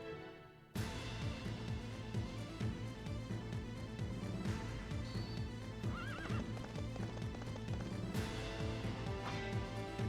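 Horse hooves gallop in a quick, steady rhythm in the video game TearRing Saga, with a short whinny partway through, loud and close over continuous game music.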